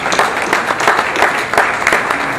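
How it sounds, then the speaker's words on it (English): Audience at an arts awards ceremony clapping in a loud, close burst of applause with a pulsing rhythm throughout. "We're going to give him a round of applause for helping create the interviews as well."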